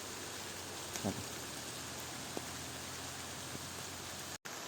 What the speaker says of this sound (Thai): ตอนนี้ฝนก็เริ่มหนักละ